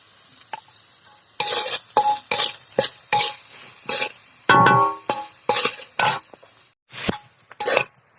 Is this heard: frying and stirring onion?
yes